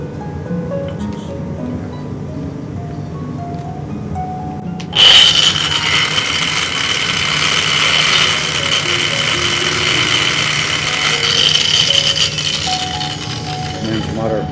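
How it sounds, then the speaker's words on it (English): Angle grinder cutting through stone to clear away waste, starting abruptly after a few seconds of quieter tool and engine background, then a loud, steady, high-pitched grinding whine that holds for the rest of the clip. "then it's a matter of running the grinder through all this here"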